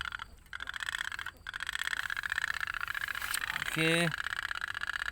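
Otok-otok pop-pop toy boat running on its candle-wick flame, a fast continuous putter close by, with a voice speaking and a brief tonal squeal near the end.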